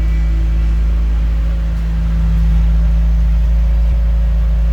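Ford Festiva engine note at the rear of the car, a steady low, droning hum with a strong bass fundamental and faint harmonics, holding even without revving, close and alone.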